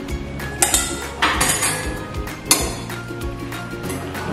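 Metal utensil scraping and clinking against a pot while cooked macaroni is stirred into red sauce for cheesy baked macaroni, with irregular sharp clanks and knocks over a soft background hum.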